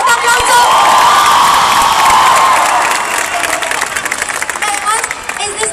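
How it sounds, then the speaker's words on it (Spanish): Pop concert crowd in Fuengirola cheering and clapping for a pianist, a loud continuous roar of shouts, screams and whoops over steady applause, easing a little toward the end. "Un fuerte aplauso."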